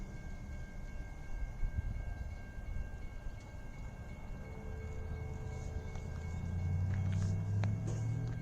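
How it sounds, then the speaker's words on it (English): A CSX westbound local freight train approaches in Emmett, Michigan, a low rumble swelling steadily louder with a steady tonal hum, while a crossing signal's tones ring faintly above. "Second westbound train."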